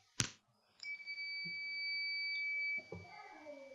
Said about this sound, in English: when I touch these two probes, it beeps